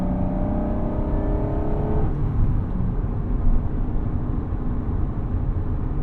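A 1996 Acura NSX-T drives on a road, its engine note rising in pitch before a shift drops it, then settling into a steady, loud drone with road rumble underneath.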